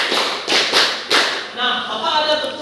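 A teacher in a classroom demonstrates a counted clap pattern, three sharp distinct claps spaced roughly half a second apart, followed by his voice speaking.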